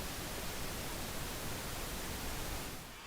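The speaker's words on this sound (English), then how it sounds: "Let's listen to pink noise." Steady, dense pink noise for tinnitus sound therapy, a smooth even hiss like soft rushing air that holds constant, then fades slightly at the very end.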